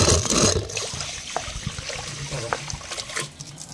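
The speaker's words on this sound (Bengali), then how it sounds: "গাছে জল দিয়ে হবে।" Water trickles and splashes as potted plants on a rooftop are watered in the morning, a steady close dribble with scattered knocks and rustles, while a person talks over it.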